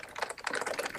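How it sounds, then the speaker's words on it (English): Fast, light keystrokes on a computer keyboard patter quietly through a one-second burst, picked up during an online video call. No voices are heard. "If whoever's muting or typing could mute, that would be super cool."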